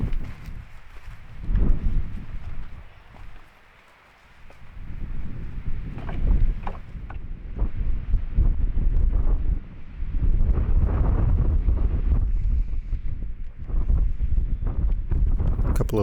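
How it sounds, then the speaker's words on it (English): Gusty wind buffets the microphone on an open hilltop ridge in the Newfoundland wilds, rising and falling in loud rushing waves with a brief lull partway through. "anytime the wind blows, this stuff's being rustled in the wind whether you're here or not."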